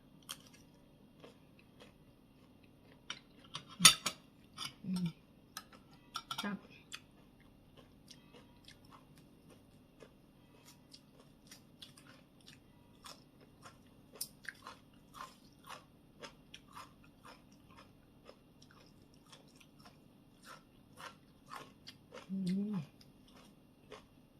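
Someone eats crunchy stir-fried egg with cucumber and papaya salad, with scattered close crunching bites and chewing sounds in a quiet room, and brief soft voice moments in between.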